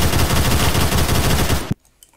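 An X95 SMG fires a loud, fast, steady burst in Phantom Forces, the shots running together close up before stopping abruptly, followed by near silence.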